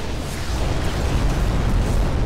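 Mine explosions in a starship roguelike space battle game, a dense continuous rumble of overlapping booms and bursts, loud and close, with no talking.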